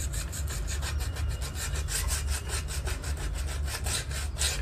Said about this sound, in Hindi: तो इसी तरह हमें मोटर को भी अच्छे से घिस लेना है इस पॉलिश पेपर की सहायता से।